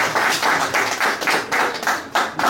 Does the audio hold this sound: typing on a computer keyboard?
no